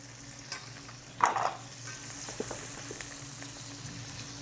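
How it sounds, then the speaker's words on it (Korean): Shrimp stir-fry in hot oil in a pan while yakisoba is being made, giving a soft, continuous sizzle with a brief louder burst as they are stirred, faint and without talking. "우선 새우부터 볶을게요."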